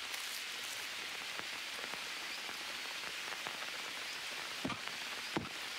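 Steady rain pours in a jungle survival setting in the game Green Hell, a dense even hiss of drops on the ground and surroundings, with a couple of louder thuds near the end.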